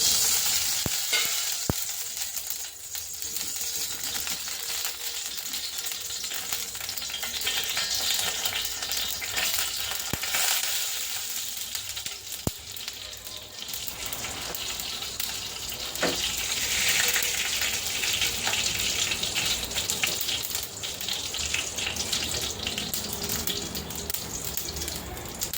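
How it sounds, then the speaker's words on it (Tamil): Mustard seeds splutter in hot oil in a kadai on a gas stove, a dense continuous crackling sizzle with scattered sharp pops, steady and close throughout. "கடுகு நல்லா பொரிஞ்சிட்ருக்கு."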